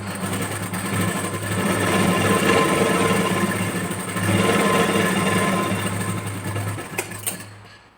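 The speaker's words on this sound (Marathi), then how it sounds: "याच्यावरती एक स्टिच मारून घेते 1/2 इंच अंतरावर." A sewing machine hums continuously and loud, stitching a strip onto a blouse half an inch from the edge, its motor whirring evenly throughout before easing off at the end.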